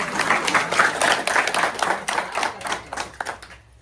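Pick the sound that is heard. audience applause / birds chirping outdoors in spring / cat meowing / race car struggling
audience applause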